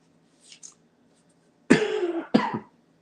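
Dry hacking coughs from a person, two faint short coughs followed by two loud, harsh bursts close up, with no talking.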